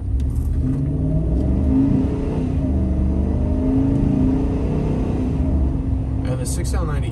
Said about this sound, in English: the 6L90E does a pretty good job of shifting in this truck